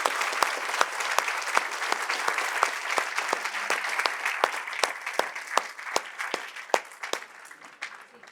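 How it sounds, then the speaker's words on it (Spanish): Audience applause at a lecture on Argentine inflation history, a dense steady clapping from a crowd with sharp individual claps standing out, thinning slightly toward the end. "Nuevamente un aplauso."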